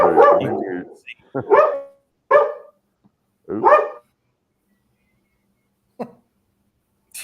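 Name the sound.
dog barking at someone walking by the window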